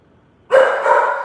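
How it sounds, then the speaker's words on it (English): A dog bursts into loud, close barking after a short quiet stretch, one sharp bark followed by a sustained run of yelping barks. "I don't know why my dog's barking."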